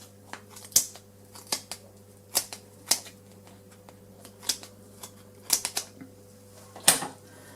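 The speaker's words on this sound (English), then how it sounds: "if you get scissors and just cut along the slot" Scissors snip along the slot of a Bosch Athlet cordless vacuum cleaner's brush roller, cutting away hair. Sharp, close, irregular cuts come one after another with short pauses between them.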